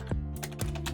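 Quick keystrokes on a computer keyboard while setting up a Netduma R1 gaming router, a few distinct clicks in about a second, close and clear with no talking.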